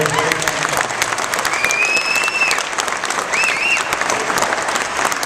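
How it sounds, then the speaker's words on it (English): An audience gives a renewed round of applause at an evening speech event, dense steady clapping filling the room loudly for several seconds, with faint whistles and cheers rising above it. "How about another round of applause for Lawson?"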